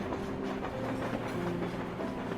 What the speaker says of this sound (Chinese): 我们这个慢火车365天，它始终是在铁路线上